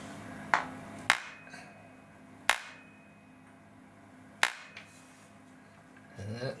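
A socket wrench tightens a part on a Zeep 9 engine, giving a few sharp, separate metallic clacks and ratchet clicks spaced about a second apart, close and fairly quiet.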